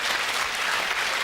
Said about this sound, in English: you get a reaction there, the majority of women, I suppose, applauding that